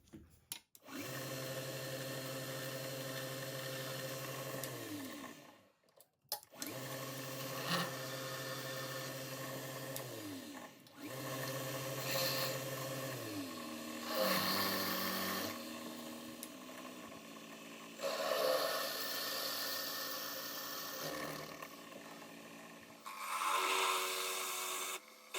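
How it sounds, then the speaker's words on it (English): A drill press bores a 5/16 inch hole in a metal engine intake valve chamber part, working up from a small hole. The motor whines steadily in several long runs, pitch shifting as the cut proceeds, with brief pauses and scraping bursts. "Then I'm going to drill a 5/16 hole, start out with a small hole"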